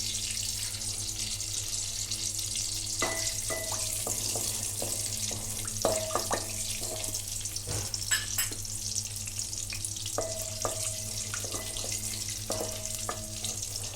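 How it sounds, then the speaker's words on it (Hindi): Cumin seeds crackle in hot ghee in a steady, close hiss of frying, with faint pops and light clinks from a utensil throughout and no voices. "जीरा देखिए क्रैकल होने लगा है।"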